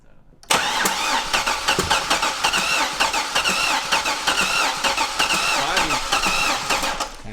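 A wrecked C6 Corvette Z06 engine cranks continuously on a start attempt, the starter churning in a fast, steady rhythm for several seconds without catching, loud and close.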